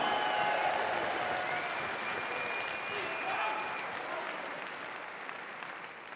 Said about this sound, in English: Ladies and gentlemen, big round of applause for Darragh O'Connell